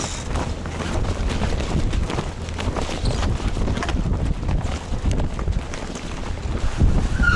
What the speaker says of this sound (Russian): Зато идем сейчас под парусами. Мотор заглушили.